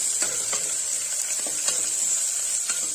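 Chopped green chillies sizzling with onions in a hot pan for wheat rava kichadi, a steady close hiss broken by a few soft stirring scrapes, with no talking.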